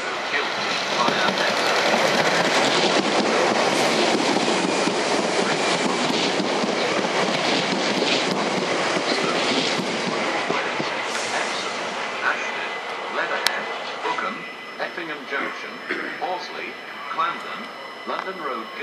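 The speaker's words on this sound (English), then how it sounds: "Approaching platform 11 is the 1548 Southwest train service to Guildford" A South Western train rolls into a platform at Clapham Junction with a loud, steady rumble and wheel noise that slowly eases as it slows, and a station announcement plays over it.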